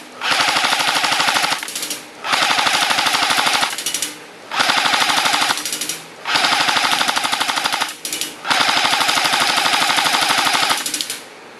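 An A&K MK43 M60 airsoft machine gun fires at a target outdoors, five long, loud, rapid bursts of clattering automatic fire with short gaps between them.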